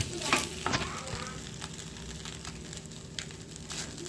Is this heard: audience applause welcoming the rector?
no